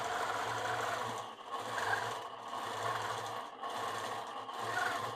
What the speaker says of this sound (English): So while Corey's stitching that